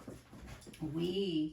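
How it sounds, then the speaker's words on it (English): A pet dog inside a house lets out a drawn-out, wavering whine after a brief stretch of speech, fairly close and clear. "If you heard that, that's our dog."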